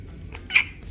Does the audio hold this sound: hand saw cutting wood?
no